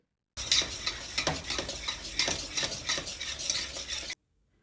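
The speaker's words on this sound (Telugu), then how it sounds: "ఇప్పుడు బాగా కలుపుకుందాము" A spoon scrapes and stirs thick Mysore pak mixture in a pan with repeated strokes, close up, over a faint sizzle.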